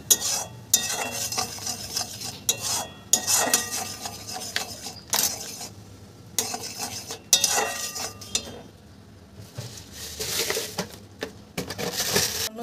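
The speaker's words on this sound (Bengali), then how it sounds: "চামচ কাশ্মীর লঙ্কা গুঁড়ো দিয়ে দিচ্ছি, দিয়ে এটাকে ভালো করে মিশিয়ে নিচ্ছি" A spoon scrapes and clatters against a pot as Kashmiri chili powder is mixed into a tamarind mixture for dahi vada, with steady stirring strokes and brief pauses throughout.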